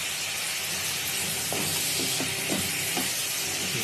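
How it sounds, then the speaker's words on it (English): Mutton frying in ghee gives a steady, loud sizzling hiss with a few faint clinks of utensils near the middle. "we are going to slightly fry the mutton in the ghee"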